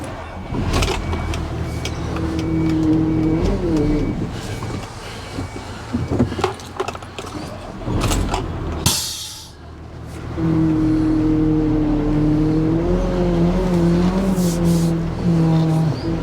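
A cherry picker's engine runs steadily while its power steering, low on fluid, gives off a droning tonal moan that wavers and rises, briefly dropping away mid-clip before returning at full strength.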